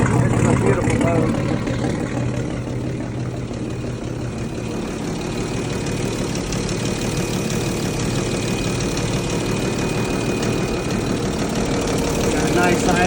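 Boat engine with triple carburetors idling steadily, a loud continuous rumble with an even low throb and no notable revs.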